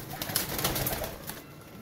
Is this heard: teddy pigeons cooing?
yes